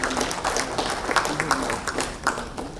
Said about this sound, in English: A big round of applause for them too